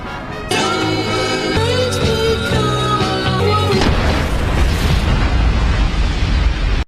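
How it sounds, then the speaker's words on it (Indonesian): A car bomb explodes with a loud boom, followed by a long roaring, crackling rumble that fills the space, alone without voices. "Ternyata mobil itu berisi bom. Ledakan itu menelan 500 nyawa."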